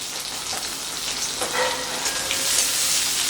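Diced onion, tomato and green chilli sizzle steadily in hot oil, a soft, even crackle with brief bright spits, heard alone and close.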